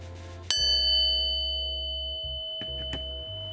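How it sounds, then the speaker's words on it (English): A single sharp tap sets a cast bronze bowl ringing with long, pure bell-like tones that slowly fade, followed by a couple of faint knocks. "Sounds good too if I tap it, rings like a bell."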